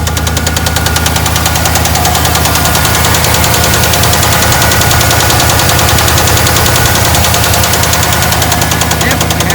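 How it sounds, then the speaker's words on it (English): A loud 1994 Ford F-150 pickup engine idling roughly on a cold start, with a rapid, steady metallic rod knock beating through the drone the whole time. "It's definitely got a rod knock in it pretty loud."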